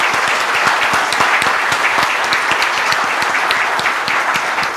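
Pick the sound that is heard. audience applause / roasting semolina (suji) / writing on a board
audience applause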